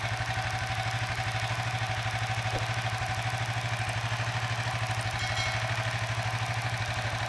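A Suzuki FU 150 FI motorcycle engine idles steadily with an even, rapid mechanical pulse, close and constant, with no talk.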